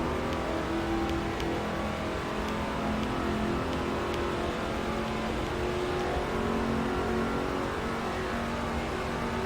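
NASCAR 07 Craftsman Truck Series race trucks race at Talladega in the video game, with a steady, dense engine drone from the pack and some higher whines running through it.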